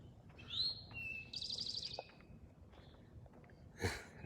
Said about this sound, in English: Just listening to that bird is absolutely amazing.